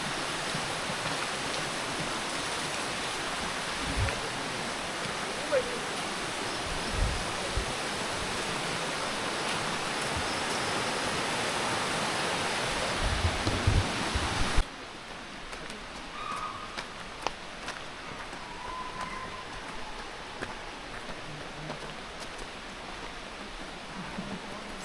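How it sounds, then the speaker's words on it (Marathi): A small forest stream and little waterfall near the Yana Caves in Gokarna, a continuous rushing wash of water that drops to a quieter level partway through, with a few faint birds and knocks. "इथे झऱ्याचा पण आवाज येतोय. इथे खाली झरा आहे वाटतं."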